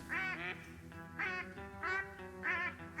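Several drake mallards flying in toward a duck blind give repeated loud raspy quacks in three bursts, close and clear with no talk.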